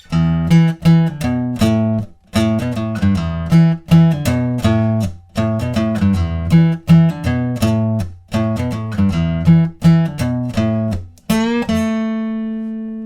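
A guitar plays the intro riff of a song, quick plucked notes repeating for several bars, steady and loud, ending on a sustained chord that rings out.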